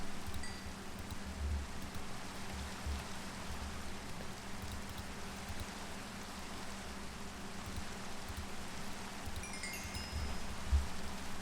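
Steady rain in Minecraft, a soft continuous hiss of falling drops with occasional low thumps beneath, quiet and even throughout with no voices.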